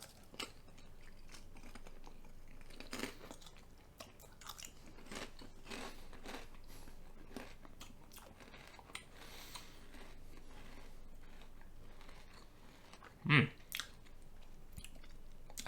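McCoy's Flamin' Fajita crisps are crunched and chewed close to the mic, with soft irregular bites through a quiet stretch and one sharp loud crunch near the end.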